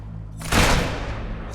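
A single loud gunshot blast bursts out close by after a low rumble, its broad roar decaying over about a second with a faint hiss behind, fired toward the listener.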